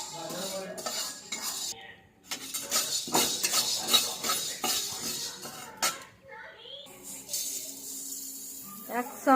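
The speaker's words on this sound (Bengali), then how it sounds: "এইটা হচ্ছে গোলমরিচ ভাজছি।" Black peppercorns and spices such as cumin and coriander dry-roasting in a pan, with irregular metallic scrapes and clinks of a spatula stirring them, broken by short pauses. Someone speaks at times.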